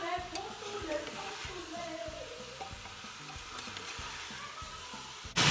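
Mixed vegetables sizzling and being stirred in a pressure cooker for veg pulao, a steady soft crackle with occasional scraping stirs, fairly quiet and close, ending in a brief louder burst.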